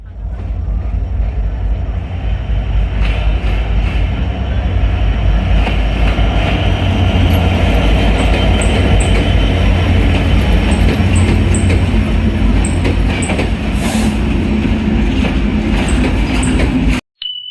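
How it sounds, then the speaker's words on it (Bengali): A passenger train on the Bheramara to Rajshahi route pulls into a station platform with a loud, sustained rumble and wheel noise. High metallic squeals ring out over the continuous roar, and no one speaks. "ট্রেন চলে আসছে"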